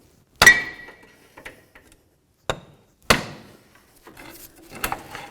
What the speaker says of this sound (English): I'm going to use my pry bar, go right up against that, and I'm going to give it a couple bonks on the end